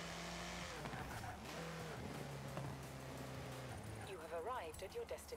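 A car drifts in Forza Horizon 4, engine droning with rising and falling pitch while tires squeal in sweeping wails near the end, with voices talking over it.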